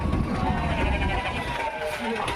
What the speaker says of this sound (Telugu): ఈ పిల్లలు గొర్రెలు అన్నీ ఉన్నాయి